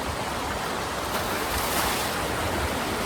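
Rainwater runs strongly below a temple, a dense, steady rushing wash that holds at an even level throughout with no voices.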